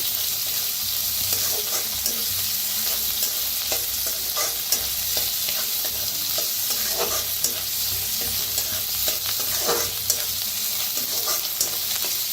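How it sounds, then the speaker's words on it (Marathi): Onion fries in a pan for a safflower-leaf vegetable dish, giving a steady sizzle with scattered stirring scrapes and clicks, close and continuous, with no talking. "त्याच्यातच टाकूया कांदा। कांदा बी भाजून घेऊया।"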